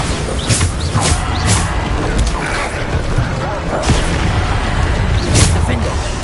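Repeated Bombarda explosion spells cast in Hogwarts Legacy, a string of booming blasts and whooshing bursts over dense, continuous combat noise, loud and close throughout.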